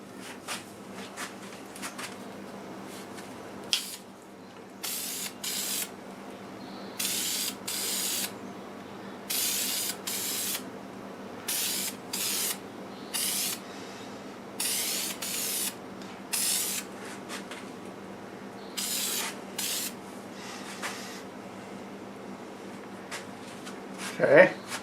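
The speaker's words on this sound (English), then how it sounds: "I'm going to spray my favorite lacquer on it" Repeated short bursts of aerosol lacquer spraying from a can onto padauk wood on a lathe, some quick and some longer, in an uneven rhythm against quiet background hum.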